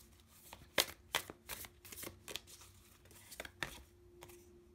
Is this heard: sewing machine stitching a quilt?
no